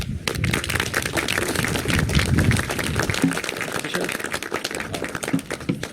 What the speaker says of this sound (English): a great round of applause for the Senate Majority Leader